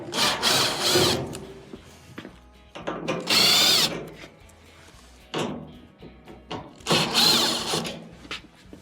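A power drill backs out Phillips screws from a clothes dryer's heater assembly, with several separate high-pitched whirring bursts broken by short pauses and mechanical clicks, close by.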